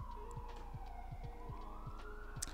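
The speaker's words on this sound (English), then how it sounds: "The sirens, you're not helping." Emergency vehicle sirens wailing outside, faint and distant, a rising electronic wail over a low background with a regular ticking pulse.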